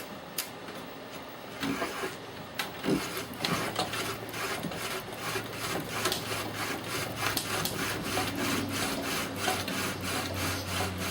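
Friction fire drilling with a rattan spindle on an ebony hearth, spun fast: continuous rhythmic wooden rasping strokes that quicken and stay loud and close over a steady background fan hum.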